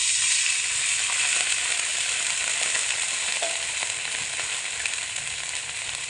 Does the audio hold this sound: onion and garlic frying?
yes